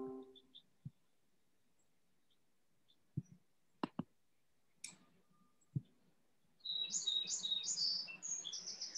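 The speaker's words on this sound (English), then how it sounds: "it's nice to hear the birds" Bright bird chirps and tweets in a quick cluster near the end, after a few scattered clicks and taps in an otherwise quiet setting.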